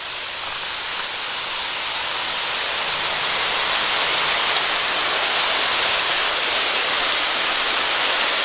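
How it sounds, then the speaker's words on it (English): A small waterfall at a CCC dam pours from a chute, giving a loud, steady broadband rush of falling water that swells slightly and stays constant, with no voices over it. "I think we're going to go over like another little waterfall here."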